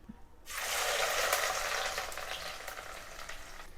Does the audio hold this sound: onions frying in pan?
yes